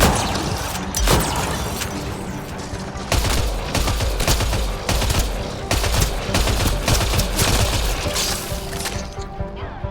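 Dense gunfire in Mass Effect Andromeda, rapid overlapping bursts of shots and impacts hammering almost continuously at close range, loud throughout with brief dips between volleys.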